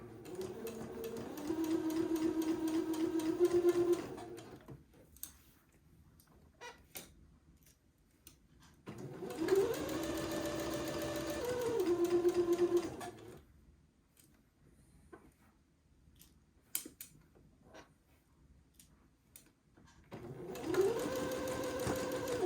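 A domestic sewing machine stitches entredeux lace onto the armhole of a little girl's bubble garment, running in three steady close bursts with quiet pauses and small handling clicks between them.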